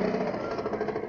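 A broken-down motorcycle engine in a 1975 Hindi film scene runs with a rough, continuous knocking rattle, loud and steady throughout the short stretch.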